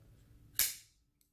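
A Kershaw Blur folding knife flicked open, one sharp, crisp metallic snap up close, followed by a faint tiny click.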